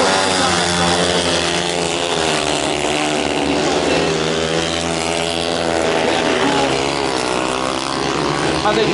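Longtrack racing motorcycles roar around the track in a final of the 2021 FIM Longtrack World Championship at Marmande, their engines a loud, continuous, high-pitched wail that rises and falls as the bikes power through and out of a corner.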